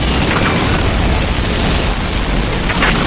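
A copper cannon blast in the video game Earth Defense Force 6, a loud, dense, continuous roar of booming explosions filling the whole stretch without pause.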